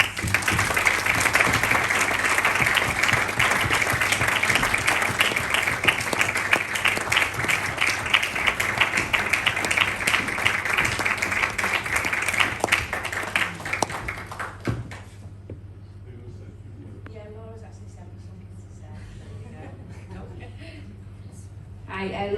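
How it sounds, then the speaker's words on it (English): At a community awards ceremony, the audience claps in a long, loud, dense round for an award accepted on a winner's behalf. The applause stops abruptly near the end, leaving a quieter room with a steady low hum and faint sounds. "So a big round of applause."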